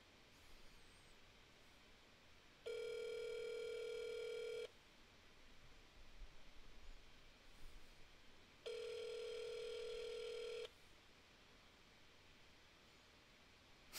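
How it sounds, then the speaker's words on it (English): A telephone rings twice on the line, two long electronic tones separated by a pause, set against faint static and hiss with no talking. "Can you hear the phone ringing and stuff?"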